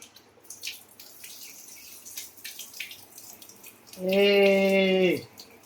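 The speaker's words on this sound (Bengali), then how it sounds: "আর এখানে হচ্ছে ডাল, ঠিক আছে, সোনা মুগ ডাল, এটাও ধুয়ে নিলাম।" Water runs from a tap for about a second while Gobindobhog rice and sona moong dal are washed, a short loud gush with a ringing tone. Quiet talk and light handling noises come before it.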